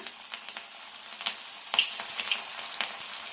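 Cabbage pakoras sizzle and crackle steadily in hot oil, a close, continuous frying hiss broken by sharp pops and bubbling bursts.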